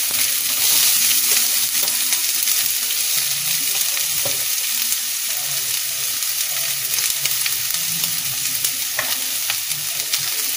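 Urad dal, two garlic cloves, two dried red chillies and an onion frying in hot oil for tomato chutney, a loud continuous crackling sizzle with occasional stirring scrapes, steady and close throughout.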